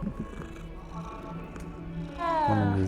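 A cat purrs softly in the video game Hogwarts Legacy under a low hum of background sound, ending with a brief louder, whiny vocal tone.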